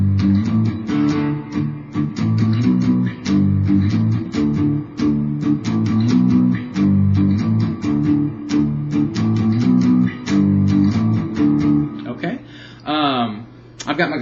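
Electric guitar plays the power-chord intro of a song at low volume with light distortion, a steady driving rhythm of repeated chords that stops near the end as a voice begins talking.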